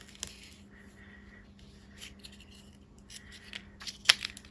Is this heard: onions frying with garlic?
no